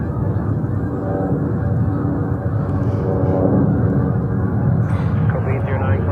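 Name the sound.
birds honking near airport runway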